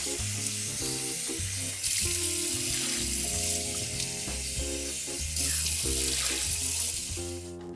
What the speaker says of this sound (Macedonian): Студена вода од чешма.